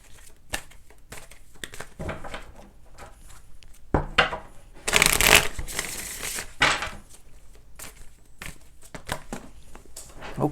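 A tarot card deck is shuffled by hand up close, giving a run of dry rubbing, riffling and tapping sounds with a louder, denser burst of card flutter in the middle.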